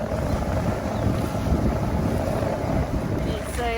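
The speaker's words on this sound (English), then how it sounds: "I'm being towed into Hillsborough by my friend Thomas" Outboard drone of a 15 hp Yamaha motor towing a second sailing dinghy across open water, a steady close rumble and rush mixed with strong wind buffeting the microphone and water wash, no talk.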